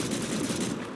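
A rapid burst of heavy machine-gun fire comes from a .50 caliber anti-aircraft MG in a 1968 eastern-front war video game, loud and continuous for about a second before it cuts off.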